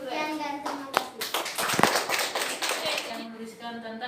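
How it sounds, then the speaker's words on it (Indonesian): Students clapping in a classroom, a burst of fairly close handclaps mixed with children's chatter and adult talk throughout. "Tepuk tangan dulu"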